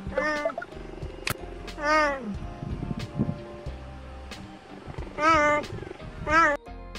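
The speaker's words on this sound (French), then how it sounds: "le guépard miaule comme un chat" A cheetah filmed in Namibia gives several short, cat-like meows, high and rising, in separate bursts close to the recorder against a quiet background with faint rustling between calls.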